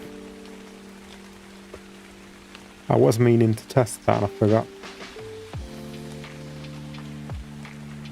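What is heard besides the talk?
rain in a video game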